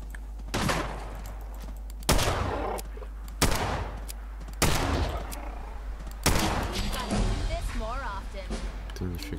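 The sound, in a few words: gunshots in the video game Fallout 4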